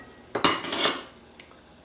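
A utensil scrapes and clinks against a bowl while vegan pumpkin apple muffin batter with brown sugar and cinnamon is mixed, a short burst of close stirring followed by a single light tap.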